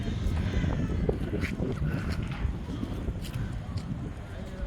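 Wind blows steadily outdoors at the Qarn al-Manazil miqat, a constant low rushing roar buffeting the microphone, with faint voices underneath.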